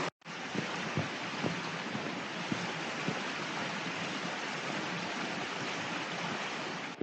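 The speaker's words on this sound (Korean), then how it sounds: "계곡물 흐르는 소리가" Water in a mountain valley stream on Suraksan flows in a steady, broad rushing wash with a few faint knocks and no speech.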